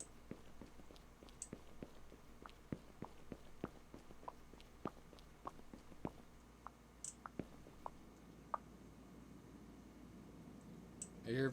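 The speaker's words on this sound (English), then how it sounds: "I hear footsteps." Footsteps in the video game Mundaun, a faint run of soft, irregular clicking steps over a quiet hum, spaced roughly half a second apart, with a louder thump at the very end.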